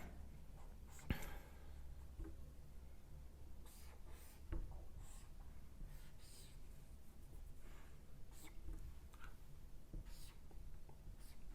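Chalk or marker writing a chemistry example on a board makes faint, intermittent scratching strokes with occasional taps, set against quiet room tone, with no speech.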